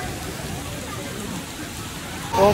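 Steady rain hisses throughout, a continuous wash of falling water, with a brief louder sound at the very end.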